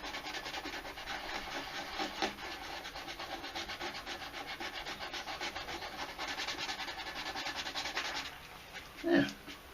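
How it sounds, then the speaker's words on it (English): Resin helmet being sanded by hand, a steady, close scratchy rubbing that runs continuously, with a brief louder knock near the end. "Sand it down a little bit more."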